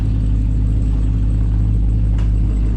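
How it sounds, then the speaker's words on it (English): A Dodge Charger Hellcat with newly fitted exhaust and springs idles with a deep, steady rumble close by, loud and constant throughout, with no clear rise into a rev. "Rev it up, right?"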